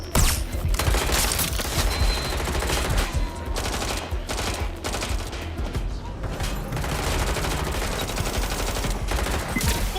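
Gunfire in Watch Dogs Legion, a dense, loud fusillade of rapid shots and bursts running continuously, with a voice briefly heard beneath the shooting.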